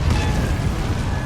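A short, dense blast from Hogwarts Legacy's Depulso force spell, heavy low boom and rumble filling the brief moment with no pause.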